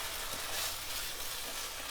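Tomato paste and masala fry in a pan for Punjabi dhaba-style rajma, giving a continuous, even sizzle throughout with faint stirring.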